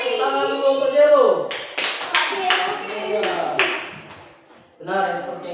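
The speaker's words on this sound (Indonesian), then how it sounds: "Nah, tepuk tangan dulu untuk Jero." A classroom of students claps for a classmate during an Islamic religious education lesson: a burst of close, overlapping hand claps rises between stretches of a teacher's speech, then fades as talking resumes.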